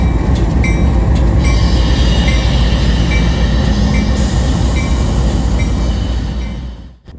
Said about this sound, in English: B639 coming out of Chicago, heading for Tampa, Florida to Hooker's Point, with an NS AC 44C6M in the lead